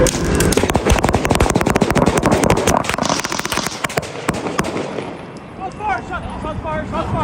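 A rapid burst of gunshots rings out during a roadside traffic stop, loud dense cracks overlapping for several seconds amid shouting voices, then fading into urgent talk.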